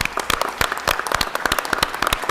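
Rousing applause at a Los Angeles city council meeting for the Parks and Recreation team, with sharp individual claps spread through a room of moderate size, steady and close.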